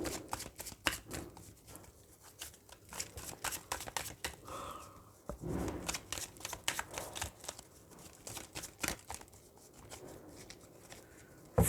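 A deck of tarot cards shuffled by hand up close, a soft rapid riffling and flapping of cards with brief pauses and light taps, quiet and alone without talk.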